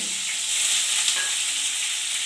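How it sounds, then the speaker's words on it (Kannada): Onion and curry leaves frying in a pan for dal fry: a steady, close hiss of sizzling oil that runs on without a break and with no voices. "ಹಾಕೊಂಡು ಸ್ವಲ್ಪ ಹಾಗೆ ಫ್ರೈ ಮಾಡಿ"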